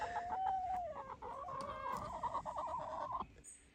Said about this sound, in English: chickens seem to be at home